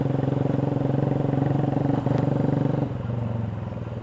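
A motorcycle fitted with a CLD aftermarket exhaust idles steadily nearby with a deep, even, throbbing burble, easing slightly lower near the end.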